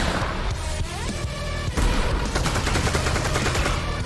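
Gunfire in the Half-Life: Alyx VR game on a custom map: loud, dense bursts of rapid shots with short gaps, sounding close, with no talk over them.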